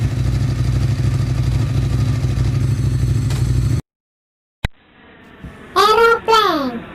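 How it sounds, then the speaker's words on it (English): A motorcycle engine drones steadily at low pitch for nearly four seconds, loud and close, then cuts off abruptly before a click and a voice. "It's a motorcycle."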